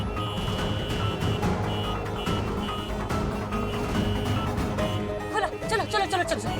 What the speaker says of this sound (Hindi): ये ट्रैफिक